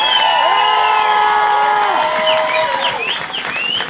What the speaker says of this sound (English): huge applause so he can hear us up in heaven